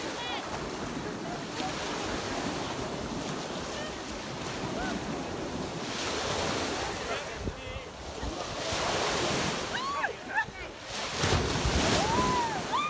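Waves and splashing water at the Dead Sea while people swim, a steady washing surf with wind buffeting the microphone, close and fairly loud, with voices faintly in the background.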